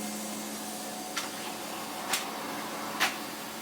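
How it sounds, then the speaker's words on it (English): A 1980s Hoover Sensotronic System 20 vacuum cleaner hums steadily at low volume, with three brief sharp clicks or ticks breaking through the motor drone. "we can now, in theory, do some vacuuming with our 1980s Hoover"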